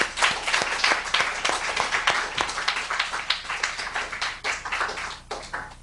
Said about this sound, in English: I'd like to give all the speakers a round of applause.